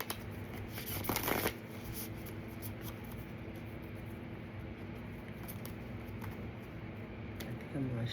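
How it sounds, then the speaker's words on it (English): A new deck of cards is riffled and shuffled in a quick burst near the start, followed by soft handling noises over a steady low background hum. "I think I'm gonna shuffle them"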